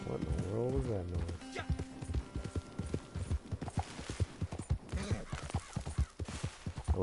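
Hooves of a galloping horse in Red Dead Redemption II Online, running through a patch of cactus, pound in a quick, steady clip-clop rhythm while people talk over it.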